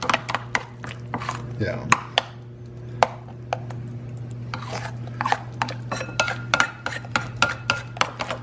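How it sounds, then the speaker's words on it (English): Raspberry filling is stirred in a bowl, producing quick, irregular taps and scrapes of a utensil against the bowl, close and crisp, with a brief word spoken. "And I'm going to stir this up."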